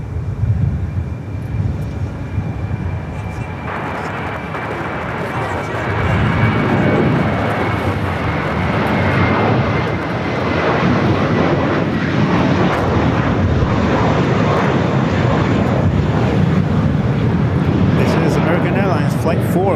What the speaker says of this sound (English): So we have another Clean Air cargo jet pushing back.